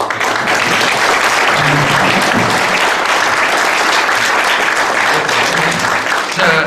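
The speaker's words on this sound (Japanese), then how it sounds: "最後に拍手を持ってご覧になってください。" An audience at a historic townscape forum in Matsushiro, Nagano, gives the panelists a sustained round of applause, dense and loud and steady throughout, with no speech over it.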